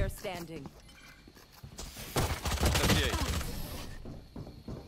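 Gunfire bursts from Valorant, a first-person shooter game, come in a short flurry of rapid shots mid-clip at moderate level, mixed with other game sounds and a background hum.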